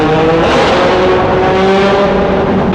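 A motorcycle ridden through Naples traffic, its engine loud and close with a sustained droning rumble and shifting revs over wind noise, running continuously without pause.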